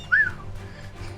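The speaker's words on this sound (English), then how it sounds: "Oh, he just wolf whistled." A single short rising-then-falling wolf whistle from a character in the video game Final Fantasy XVI, clear and close over quiet game ambience.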